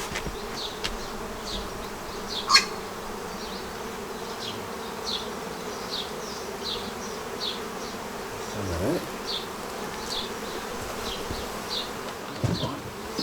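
Bees buzz steadily around a new honeycomb built in a hard-to-reach spot, with a continuous close hum and individual bees flying past now and then.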